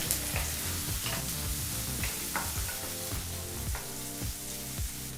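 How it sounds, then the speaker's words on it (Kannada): Green chilli and curry leaves fry on a medium flame, giving a continuous sizzle with repeated stirring clatters over a steady tonal hum, no voices. "ಸರಿಸುಮಾರು ಎರಡು ನಿಮಿಷಗಳ ಕಾಲ ಮೀಡಿಯಂ ಫ್ಲೇಮ್ನಲ್ಲೇ ಇದನ್ನೆಲ್ಲ ಫ್ರೈ ಮಾಡ್ಕೋಬೇಕಾಗುತ್ತೆ"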